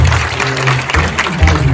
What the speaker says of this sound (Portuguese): Eu gostaria que vocês dessem uma salva de palmas para essas pessoas.